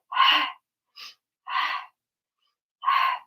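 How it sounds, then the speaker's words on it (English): Four loud, forceful breaths in a slow rhythm, sharp exhales with pauses between, close and alone with no talking. "You should be breathing as loud as I'm breathing."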